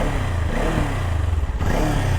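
A Kawasaki Ninja 400 motorcycle engine revs close by, a steady bassy drone with a brief throttle blip and pulsing rise about two-thirds through, no voices present.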